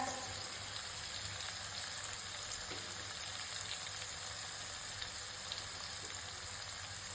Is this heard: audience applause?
no